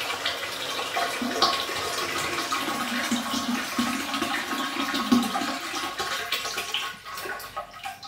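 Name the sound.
toilet cistern refilling, float valve set too high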